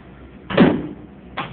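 The chamber door of a BodPod body composition device swings shut with a loud, close thud, followed about a second later by a second, softer knock as it settles, with no speech.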